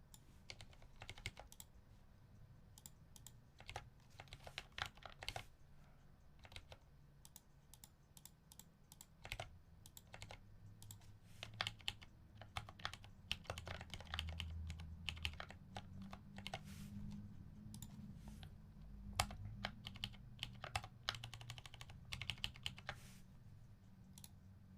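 Steady typing clatters on a computer keyboard, a hot-swapped hb60 with frog mini internals, with dense irregular key clicks running throughout and soft low background noise beneath.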